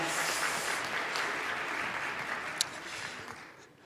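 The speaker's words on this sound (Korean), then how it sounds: "우리 귀하게 섬긴 우리 청년 1국 우리 리더들에게 다시 한 번 더 큰 박수 부탁드립니다." A church congregation gives a sustained round of applause for the leaders of a youth group, a steady dense clapping that fades toward the end, with no talk over it.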